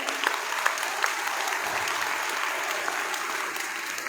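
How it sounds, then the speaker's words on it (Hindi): A large crowd of farmers at an outdoor rally applauds, a thick, steady clapping roar that holds for several seconds with a few sharper individual claps on top. "आप सभी एक बार तालियों की गड़गड़ाहट के साथ सबका आप अभिनंदन करें।"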